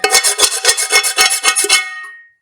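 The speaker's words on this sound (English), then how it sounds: "you can kind of scrape some of that out as well" Burnt residue is scraped from a cooking pot in about ten quick rasping strokes, close and distinct, with no talking.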